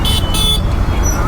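Busy road traffic in Tirupathur, India, with short car horn toots blaring over a dense engine rumble, heard close from a small motor scooter.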